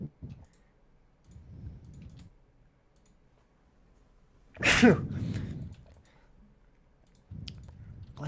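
A single sneeze bursts out near the middle amid quiet stretches of faint clicking and murmured speech.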